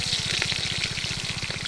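Panch phoron and green chillies sizzle in hot oil in a pan, a steady close frying hiss with a low rhythmic bubbling underneath and no talking.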